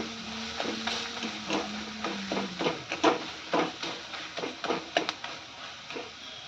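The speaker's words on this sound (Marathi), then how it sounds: "थोडंसं असं चमच्याने व्यवस्थित मिक्स करून घ्या म्हणजे भाजीमध्ये कांदा आणि टोमॅटो व्यवस्थित मिक्स होऊन जातो" A spoon stirs and scrapes through an onion and tomato vegetable mix in a pan, giving irregular close clicks and taps, denser near the end, over a faint steady background hiss.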